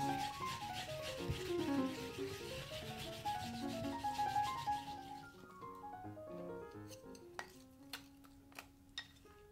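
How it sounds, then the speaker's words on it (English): Japanese mountain yam (yamaimo) rubbed against a grater, giving a continuous rhythmic rasping scrape up close for about five seconds, then a few light clinks and taps of utensils in a quieter kitchen. "Now, grate the yamaimo,"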